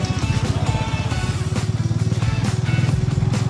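A Harley-Davidson X440 motorcycle is ridden at cruising speed on a road in Chinsurah, Hooghly. The engine gives a loud, steady, throbbing pulse with a brief dip in revs midway.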